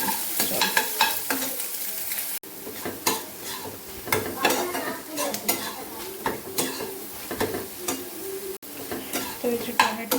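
Chopped tomatoes and onion sizzle in a pan while a utensil stirs and scrapes repeatedly against the metal in an irregular rhythm, with a steady frying hiss underneath.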